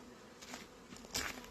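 Honeybees buzzing around an open hive frame during queen rearing, a soft, steady close hum with a few brief louder swells as bees pass near, no voices.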